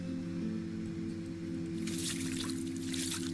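Water being mixed with a shovel in the Don't Escape 2 video game: a soft trickling, sloshing liquid sound that grows louder halfway through, over a steady game music drone.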